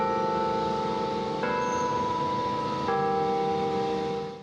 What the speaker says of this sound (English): are the chimes from the Basilica of St. Lawrence at the top of every hour